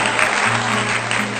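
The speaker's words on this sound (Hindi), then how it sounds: "एक बार जोरदार तालियां होनी चाहिए।" Steady, dense applause from a gathered crowd welcoming visiting officers at a main market, clapping continuously and evenly throughout, loud and close, with a faint hum running beneath it.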